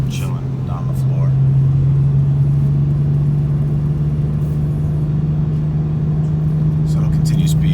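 A 2020 Toyota Supra cruising on cruise control as it picks up speed, with a loud steady engine drone and road rumble heard from inside the cabin and a faint voice underneath.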